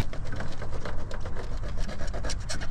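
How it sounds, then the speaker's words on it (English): Someone saws through a hose while working on a 2004 Chevy Astro van, making quick rhythmic rasping strokes that scrape steadily and close by without pause. No one speaks. "All right, just keep sawing."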